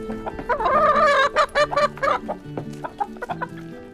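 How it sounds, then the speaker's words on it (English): Several chickens cluck and chatter up close, a busy overlapping flurry of short calls and a few longer squawks, no talking. "So we have some very happy chickens"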